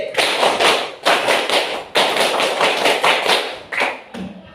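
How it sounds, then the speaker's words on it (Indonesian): A group of people, likely children in a classroom, claps together in quick bursts of three, with short pauses between each set. The claps are sharp and close, repeating several times. "Tepuk tangan 3 kali."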